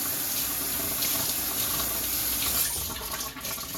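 Water runs steadily from a kitchen tap as hands are rinsed under it while cooking, a continuous close splashing rush lasting the whole few seconds with no talk.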